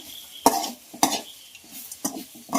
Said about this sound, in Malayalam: അപ്പോൾ നമുക്ക് ഒന്ന് യോജിപ്പിച്ച് കൊടുക്കാം